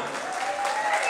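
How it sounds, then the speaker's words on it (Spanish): Crowd at a flower-queen pageant applauds four contestants, a steady wash of clapping with a voice faintly audible over it. "vamos a brindarles un fuerte aplauso a las cuatro participantes"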